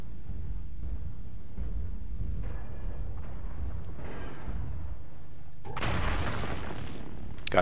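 Incoming missiles explode during a MechWarrior Online battle, with low rumbling ahead of a sudden loud, sharp blast near the end.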